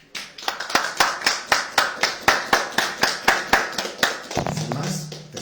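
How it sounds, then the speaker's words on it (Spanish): Rhythmic, evenly spaced clapping at a poetry festival, about a dozen sharp claps in unison, ending in a brief murmur of sound. "les pido un fuerte aplauso"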